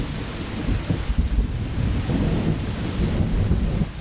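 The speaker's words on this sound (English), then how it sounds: "the first ominous roll of heavy thunder could be heard" Heavy rain pours down steadily while deep thunder rolls and rumbles through it, swelling and fading in low waves beneath the dense hiss of falling water.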